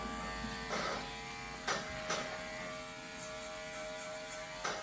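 Electric hair clippers buzz steadily while cutting a man's hair in a barbering class, a close, continuous hum with a few brief louder scrapes as the blade passes.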